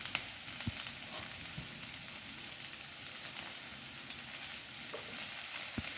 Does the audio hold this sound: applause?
no